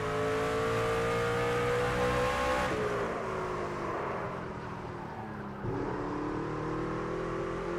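A Craftsman Truck in NASCAR 25 laps the Martinsville short track, its engine a loud, continuous whine that drops in pitch under braking into the turns and climbs again as the throttle reopens.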